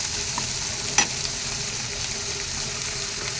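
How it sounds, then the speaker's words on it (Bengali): Spices with salt and turmeric stirred in a hot pan for a Bengali fish curry of katla with ol kochu taro, giving a soft steady sizzle and one sharp scrape of the spoon. "ভালো করে নাড়াচাড়া করে"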